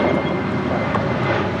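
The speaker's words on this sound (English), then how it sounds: "That was American 335 departing to Phoenix on a 737-800." An American Airlines Boeing 737-800 departing LAX for Phoenix produces a loud, steady jet engine roar, close and continuous over a short span.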